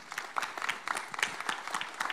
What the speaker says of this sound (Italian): fate bene ad applaudire.